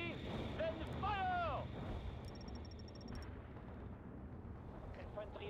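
A launcher fires in the real-time strategy game World in Conflict: Soviet Assault, a whooshing, booming discharge with whistling tones, under a steady wash of distant battlefield rumble and faint game chatter.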